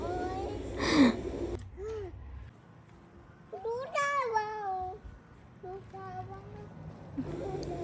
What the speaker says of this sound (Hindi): देखो मम्मा बिल्ली है, कैट है कैट है